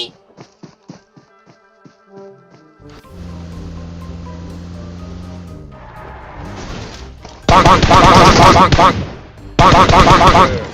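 Bursts of rapid automatic gunfire in the mobile battle game PUBG Mobile, loud and dense near the end, following quieter single shots and game sounds, with no clear voice over them.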